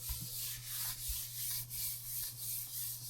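Hand sanding of a de-anodized aluminum RC car part, a close rhythmic scrubbing stroke repeating about twice per second over a low steady hum, no talking.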